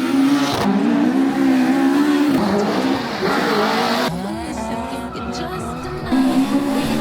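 Rally cars at the Donegal International Rally near Letterkenny: a loud, continuous engine roar with squealing, skidding tyres and shifting revs, close and unbroken by talk.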